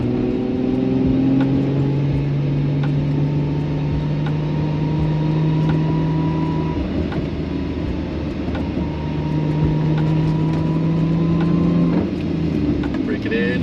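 A Lexus IS300 with a newly installed dual-caliper hydraulic handbrake drives steadily, its engine droning with tonal hum that rises and falls as it accelerates and eases off, loud and close throughout.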